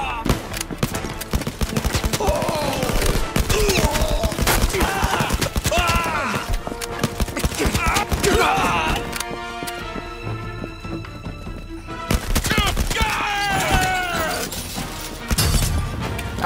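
Gunfire in a tense action film scene: rapid bursts and volleys of shots with crashes and shattering, loud and dense, under frantic shouting and a music score.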